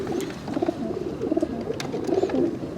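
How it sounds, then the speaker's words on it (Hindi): Large pigeons cooing in a loft, a steady series of soft, throaty coos repeating alongside rustling and occasional faint chirps, with no talking. "वाकई ये बड़ा कबूतर है"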